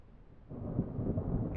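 A simulated thunderstorm in a storm blueprint swells into a low, muffled rumble of thunder after a quiet half second, then rolls on steadily and fairly softly.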